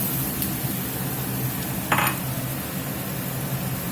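Mushrooms and shallots sizzle steadily in a skillet, a constant frying hiss with a sharp metallic clink of a utensil against the pan partway through.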